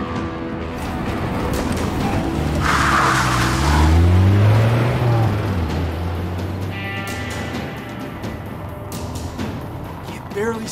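A car races and skids in the video game As Dusk Falls, engine roaring loudly with a long tire screech in the middle, then settling into a steady drone while music plays underneath.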